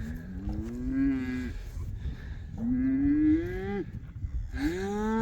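Bull calves moved to a new row of pasture moo loudly and close by, three long drawn-out calls in a row, each rising then falling, with no talk.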